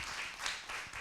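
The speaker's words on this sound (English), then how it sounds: "Let's give our panelists a round of applause." A short burst of dense clapping from a live panel-event audience, steady and fairly loud, with no voices over it.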